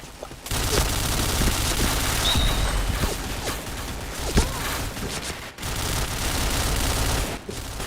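Dense gunfire in a shooting video game, rapid bursts and steady automatic fire rolling almost without pause, with a few louder single shots and brief gaps of quiet.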